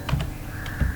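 Quick keystrokes on a computer keyboard while code is entered, a few crisp clicks close up in a short burst with no talk.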